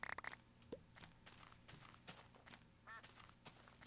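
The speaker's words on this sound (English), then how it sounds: "I hear a duck." Faint duck quacking in Minecraft, a short call set low among clicky game sounds and background noise.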